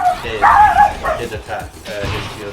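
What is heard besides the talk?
dog Charlie barking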